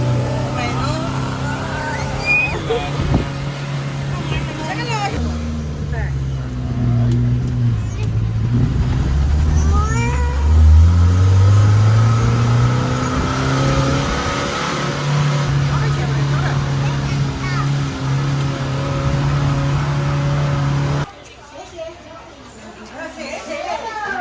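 A bus accelerating on a road in Wulong, Chongqing, its engine rising in pitch as it gains speed, loud and close, with people chattering over it before the engine noise drops away near the end.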